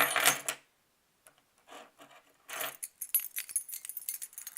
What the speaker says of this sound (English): These are my keys and my keyring.